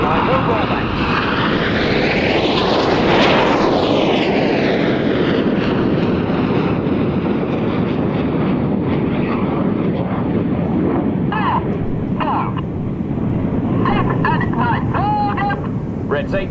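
Red Arrows jets roar past in close formation at an RAF airshow, a loud sustained engine rush that swells and sweeps overhead with a falling pitch, then fades into steady distant jet noise under wind buffeting and narration.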